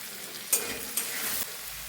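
Spices with turmeric and salt frying in a pan while being stirred, a steady close sizzle with two brief scraping strokes.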